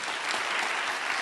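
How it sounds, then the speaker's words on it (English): Audience applause at a community college dialogue on race, a short steady burst of dense clapping from a crowd in a hall, close and even throughout. "Let's give them a round of applause."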